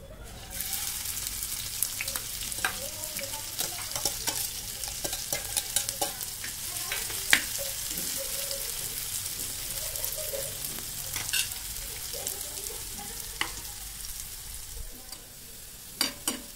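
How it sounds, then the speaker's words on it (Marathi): Chicken liver fries on a griddle with onion, giving a steady close sizzle throughout with scattered sharp crackles and the occasional scrape of stirring, no voices. "आता हे तव्यामध्ये फ्राय करताना दाखवतो."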